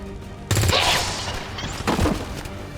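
Gunfire from a shooting in the video game XCOM 2, with a loud sudden burst of shots followed by a second, weaker volley about a second and a half later, close and reverberant.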